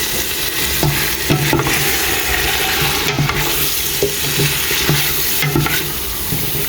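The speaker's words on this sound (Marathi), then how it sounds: "हेजेच बरें घालता आमचे पोटॅटोज घालून दिता बरो मिक्स" Potatoes being stirred into a sizzling prawn masala in a pan, with steady frying crackle and repeated scraping stir strokes throughout, no talking.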